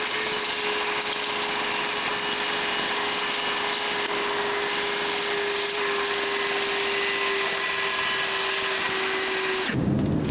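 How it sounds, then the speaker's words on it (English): A vacuum cleaner runs loud and steady with a constant whine while cleaning debris from a Porsche 987 Boxster radiator, then cuts off abruptly near the end; no talk. "now that I've vacuumed out this part"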